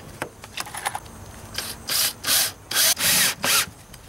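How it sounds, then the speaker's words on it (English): A power drill drives screws through plywood stone shapes into a substrate: a few short light taps, then four or five loud whirring bursts about half a second each with brief gaps, close up, no talking. "temporarily screwed the stone shapes onto the substrate using 1 or 2 screws just to lay out the pattern"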